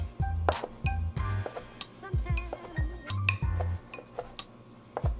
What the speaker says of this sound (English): All right, so we've got 4 boiled eggs. We're just gonna chop these up like so.